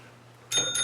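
A bell rings twice in quick succession, two bright metallic strikes that ring on with sustained overtones, close and clear, after a short stretch of quiet room hum.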